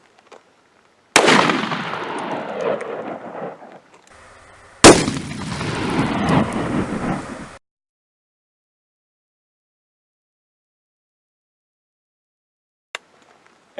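A .500 S&W Magnum revolver fired outdoors with jacketed soft point bullets: two loud, sharp blasts about four seconds apart, each trailing into a long rumbling echo before silence, followed by a faint click.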